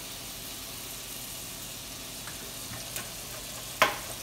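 Butter and avocado oil sizzling in a hot pan, a steady close frying hiss throughout, broken by a few soft clicks and one sharper clatter near the end.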